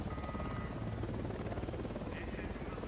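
Helicopter in the video game Ghost Recon Wildlands, a steady low rotor drone running throughout at moderate level, with game sounds and faint talk over it.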